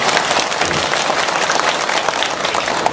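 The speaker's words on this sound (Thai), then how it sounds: "ขอเสียงปรบมือส่งเสริมการท่องเที่ยวเลย" An audience at a tourism-promotion event breaks into loud, dense applause, a continuous roar of many hands clapping close by, lasting the whole moment without a clear voice.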